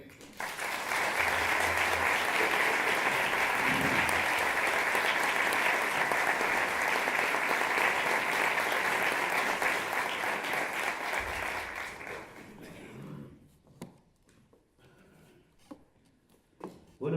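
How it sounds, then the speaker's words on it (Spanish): Loud, dense applause from an audience at a folk music association event in Spain, sustained for about twelve seconds before fading into scattered claps and quiet. "Les pido un fuerte aplauso para Francisco Javier Serrano."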